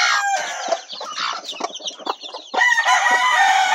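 Hens clucking and a gamefowl rooster crowing nearby in a backyard, several overlapping calls with short breaks, fairly loud and with no speech.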